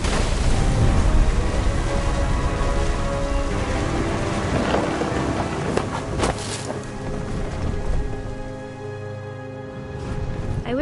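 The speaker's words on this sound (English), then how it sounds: "The thunder sounded much too close and full of angry power" Steady heavy rain with low rumbling thunder in the video game What Remains of Edith Finch, a dense continuous downpour with a deep boom swelling near the middle, loud and close throughout.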